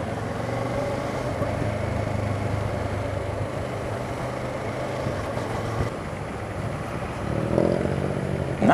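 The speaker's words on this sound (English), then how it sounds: "Nice bikes, whoa, yeah. Police bikes." Police motorcycles ride past in a busy open-air market, their engines rumbling steadily under the general traffic noise and swelling louder near the end.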